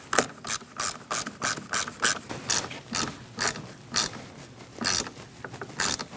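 A hand ratchet tightens the battery hold-down clip on a 2020s Toyota Corolla, giving about sixteen sharp, close clicking bursts in a quick, slightly uneven rhythm with no talking.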